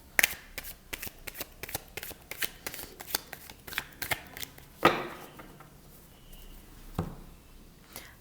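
Tarot cards are shuffled in quick repeated riffles and soft flicks, close and fairly quiet, followed by a few slower card slaps, with no talk.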